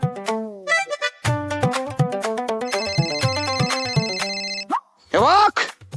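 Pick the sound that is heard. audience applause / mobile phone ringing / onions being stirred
mobile phone ringing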